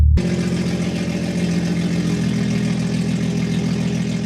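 A BMW 340i engine with a bad exhaust idles roughly and loudly, a steady low rumble with harsh, rattly exhaust noise running throughout, no voices.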